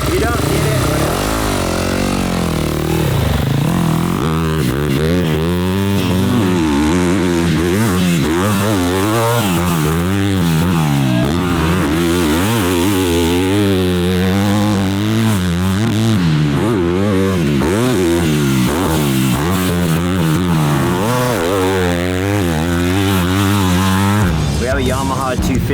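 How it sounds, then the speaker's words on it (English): A Yamaha YZ250 two-stroke dirt bike engine revs hard and continuously while ridden, rising and falling in pitch with rapid throttle blips, loud and close. "Yamaha 250 two-stroke here"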